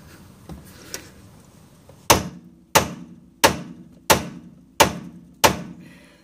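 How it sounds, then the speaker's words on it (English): Six sharp, heavy metallic hammer strikes on a car's steering box during its removal land at a steady pace, each ringing briefly, after a few faint taps. "give it a little whack with a hammer"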